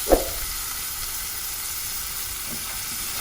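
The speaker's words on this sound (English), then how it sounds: "So let's add our marinated hog plum and peel it." Marinated hog plum pieces frying in a pan for a vegan hog plum curry, giving a steady close sizzle with a brief stir or clatter at the start and a faint disturbance near the end.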